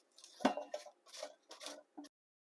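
Black bean burgers flipped in a pan, heard as a sharp clink and scrape of a utensil against the pan followed by a few softer scraping and shuffling bursts, close up and fairly quiet.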